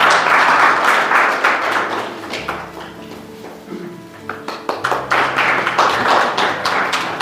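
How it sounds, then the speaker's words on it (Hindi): Students applaud at a college entrepreneurship programme launch, with dense clapping swelling at the start, thinning into scattered claps in the middle, then building back to full, steady applause. "एक बार जोरदार तालियां बच्चों।"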